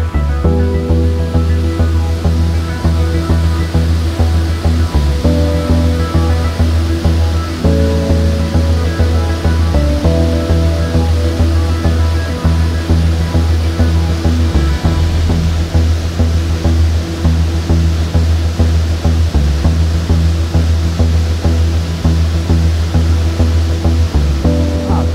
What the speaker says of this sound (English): There's quite a bit of water coming down the creek, so hopefully the waterfall will be in prime photographic condition.